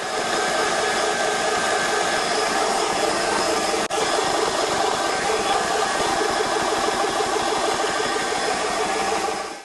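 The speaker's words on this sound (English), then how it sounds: "don't leave the compressor. You need to stay close, keep an eye on it" A SMACO HPA portable high-pressure air compressor runs with a loud, steady, close mechanical drone and whine, broken only by a brief dip partway through.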